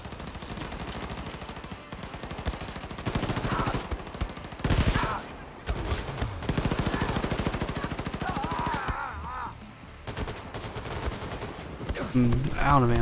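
Dense bursts of dual-wielded gunfire in Wolfenstein: The New Colossus, loud and continuous with brief pauses, layered over game music and effects.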